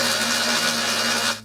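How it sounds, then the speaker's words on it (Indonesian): Blender grinding peanuts and other ingredients for satay peanut sauce, a loud, steady high-pitched motor whir that cuts off abruptly at the end. "kacang tanah dan bahan lainnya dihaluskan dengan cara di blender"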